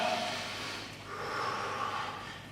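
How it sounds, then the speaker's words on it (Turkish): Deep breaths drawn in and pushed out through the nose and mouth between sets of kickboxing footwork training, a soft, airy in-and-out rush close by with no talk. "derin bir şekilde nefes alıp burundan ve ağızdan vermemiz"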